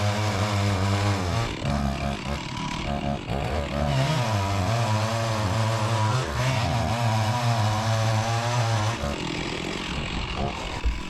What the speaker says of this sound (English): Now I'm on the other side of the stump trying to continue the same saw cut around this side.